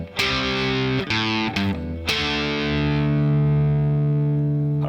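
Distorted electric guitar plays an intro riff with bright, saturated power chords. Several quick chord hits lead into a long ringing chord that sustains to the end.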